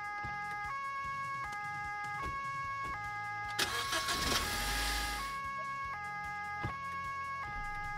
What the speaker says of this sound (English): This siren's annoying.